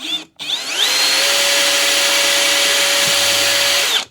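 A power drill fitted with a new bit bores into soft poplar wood, spinning up to a loud, steady high whine that holds for about three and a half seconds before winding down, close up and with no talking.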